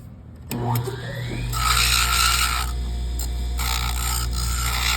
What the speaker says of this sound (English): So then I'm going to move to the larger burr.